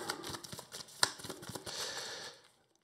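Playing cards for the Arkham Horror card game being shuffled by hand, a quick run of soft riffling and papery clicks lasting a couple of seconds, close and quiet.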